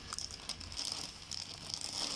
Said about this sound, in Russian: Сейчас я открою пакет, вам покажу.